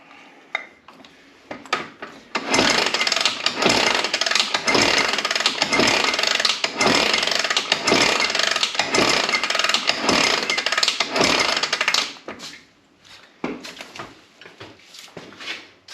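A Honda 350X motorcycle engine cranks and catches, running roughly in a loud, uneven, sputtering burst for about ten seconds before cutting out, with a few quieter cranking attempts around it.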